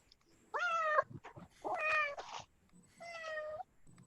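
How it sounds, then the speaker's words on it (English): A cat meowing unhappily, with three drawn-out, wavering meows in close succession, faint and heard alone. "Is that your cat making that noise?"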